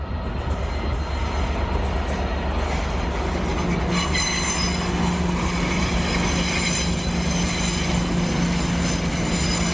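A train rolls through a station steadily with loud rumbling and high metallic wheel squeal, continuous and close, with no voices.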